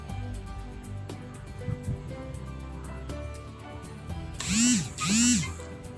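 A kitchen mixer grinder churns soaked dosa batter in its jar, giving two short loud whirring bursts near the end, each rising then falling in pitch.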